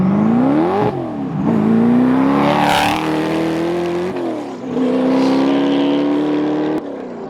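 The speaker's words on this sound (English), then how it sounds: "we're gonna get some flybys for you guys because I wanna hear this car from the outside" A Hennessey Venom GT supercar roars past at full acceleration, its loud engine note climbing through several gear changes as it sweeps by close and then fades away, with no voices.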